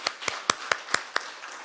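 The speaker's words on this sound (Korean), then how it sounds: "축복의 박수 부탁드리겠습니다." A church congregation claps at an early-morning worship service in a short, sparse burst of about six distinct, evenly spaced claps, moderately close, with no talking.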